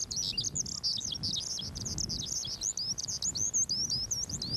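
A Pescadores skylark sings in Penghu grassland, a continuous run of high, rapid warbling chirps and trills, clear and fairly close, over a faint low background rumble.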